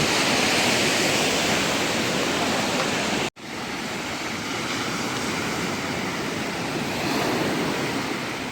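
Sea waves wash continuously onto a shore in Kerala, a loud, steady broadband roar with a brief dropout a third of the way through, no voices.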